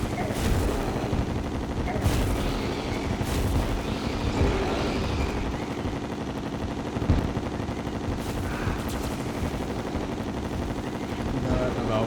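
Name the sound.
chlorophyte bullet gunfire in Terraria video game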